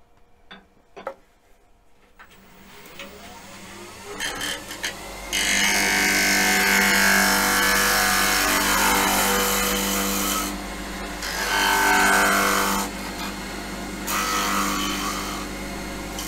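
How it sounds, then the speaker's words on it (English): A bowl spins on a lathe while the inside is hollowed out, starting with quiet taps and a rising motor before a steady, loud rasping cut that pauses briefly and resumes. "A bit deeper hollowing out needed."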